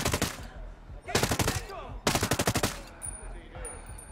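Video game gunfire from Ghost Recon Breakpoint: three separate loud bursts of rapid automatic shots, each lasting about half a second, the last followed by a fading tail and faint electronic tones.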